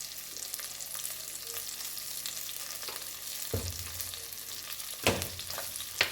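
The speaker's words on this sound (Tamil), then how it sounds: "இது நம்ம எண்ணெயில் பிரட்டி விட்டுருவோம்" Spice powder sizzles in hot oil for a bitter gourd tamarind curry, making a steady close hiss broken by a few sharp scrapes and knocks of a spoon stirring in the pan.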